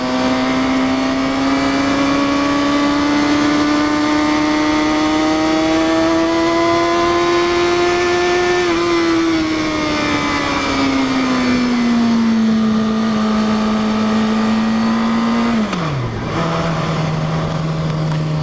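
A 2006 sport motorcycle engine revs loudly and steadily, its pitch climbing slowly, then falling, before a quick dip near the end; close and continuous with no talking.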